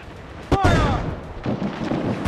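A loud cannon blast booms from a pirate ship's broadside during a naval chase in Assassin's Creed IV Black Flag, followed by rumbling echoes and further thuds, with a shouted command just before.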